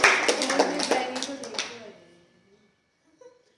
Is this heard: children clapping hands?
yes